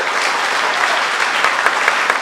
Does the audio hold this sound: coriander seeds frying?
no